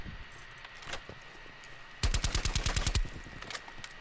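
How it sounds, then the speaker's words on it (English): Suppressed submachine gun fire in a video game: a tight burst of about a dozen rapid muffled shots in even rhythm, loud and close, with a few scattered quieter shots before it. "The suppressor sounds nice."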